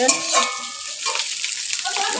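A short stretch of fish frying in a pan, with a constant hiss of sizzling oil and a faint metallic ding near the start.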